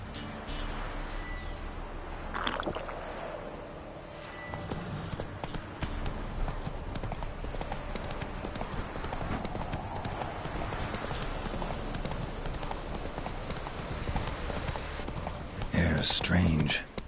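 A horse gallops in the video game The Witcher 3: Wild Hunt, with steady rhythmic hoofbeats throughout and a louder flurry near the end. A voice speaks over the hoofbeats.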